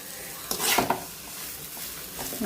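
Potato masala with kasuri methi being stirred in a pan for aloo paratha stuffing, a few close scraping strokes of a spoon against the pan bunched near the start, then quieter faint sizzling.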